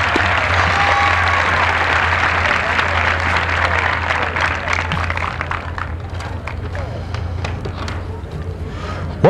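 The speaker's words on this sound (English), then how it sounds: "Would you please welcome them by giving them a round of applause?" A crowd at a high school graduation ceremony applauds loudly and thickly at first, then thins out into scattered claps and shuffling sounds as it tapers off.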